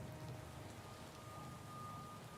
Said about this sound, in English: This rain is super laggy